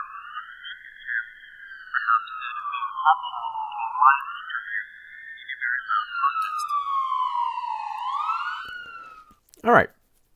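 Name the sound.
ambulance siren recording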